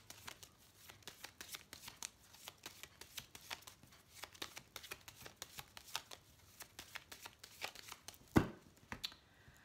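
Oracle cards are shuffled for a reading in quick, close, quiet riffles and flicks, a steady run of soft card slaps ending in one sharper snap as the deck is squared.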